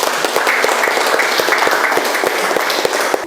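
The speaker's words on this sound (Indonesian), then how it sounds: "Iya, berikan aplaus." Applause from a classroom audience, steady dense clapping that carries evenly through the short stretch with no pauses.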